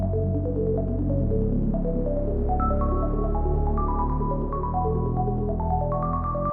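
A plucked synth in FL Studio rings out through a heavy wash of reverb, its notes stepping through a melody and blurring into a long, dense, sustained tail with no voice present.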